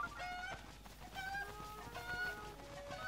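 Chickens in a Legend of Zelda: Breath of the Wild village give repeated faint, high clucks and chirps over a quiet background, with no talking.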